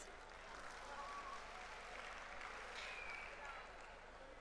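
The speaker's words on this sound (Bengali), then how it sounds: "নিজের জন্য এবার অনেক জোরে একটা করতালি প্লিজ" Audience at a Modern Herbal Group 37th anniversary celebration applauding in a steady, continuous wash of clapping that holds for several seconds, fairly distant and even, with no voices.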